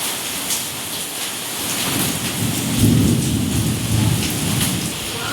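Heavy rain pours down with thunder during festive sweet-making at home, a constant dense hiss of drops on surfaces with a deep rumble of thunder swelling midway, loud and close.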